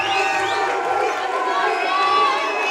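A crowd cheers and shouts for Stoneman Douglas wrestler Devon Dixon at an XFN fight event, a dense sustained roar with voices in it.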